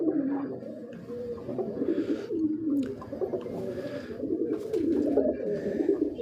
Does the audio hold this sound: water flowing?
no